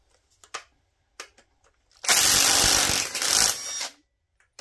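A power tool briefly runs at a Vanguard 18 hp engine to try to break loose a cylinder head bolt, a loud whirring burst of about two seconds with scattered small clicks and handling noises before and after.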